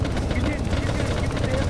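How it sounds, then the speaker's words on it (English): Helicopter in the ArmA 3 video game during a team military operation, a steady close rotor drone with rapid low-frequency chopping throughout, under voices on a squad radio. "In the helicopter."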